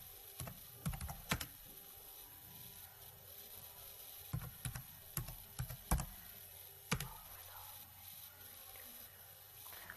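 Quick irregular keystrokes on a computer keyboard, a cluster of sharp taps followed by scattered clicks, close and fairly quiet over a faint room hum, with no talking.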